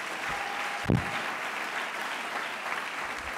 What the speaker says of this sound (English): we should give these young people a round of applause